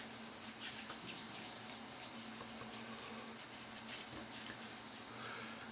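Warm water runs from a bathroom tap before a shave, a steady, fairly soft stream that flows without a break and with no voices over it.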